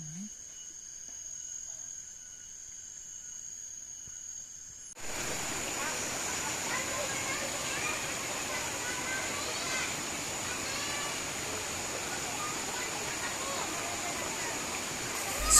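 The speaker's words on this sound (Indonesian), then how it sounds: "Spot seru lainnya di sini adalah sungai tepat di bawah jembatan gantung" A river flows beneath a suspension bridge at a camping ground, a steady broadband rush of water that swells in suddenly after a quiet stretch of faint insect chirring, then continues evenly to the end.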